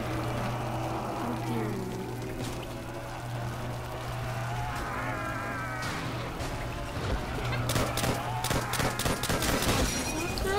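Call of Duty: World at War gunfire, a rapid cluster of sharp cracking shots toward the end over continuous game ambience and a low steady hum, with players talking quietly in the background.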